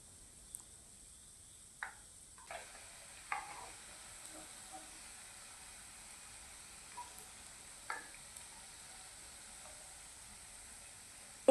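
Assamese pitha fries in oil in a wok, a faint, steady sizzle broken by a few sparse clicks and taps from stirring.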